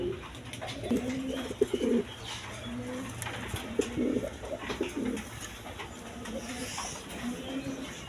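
Several pigeons coo in repeated low, throaty phrases at a dealer's stall selling breeding pairs with eggs and chicks, with intermittent background clatter and faint voices.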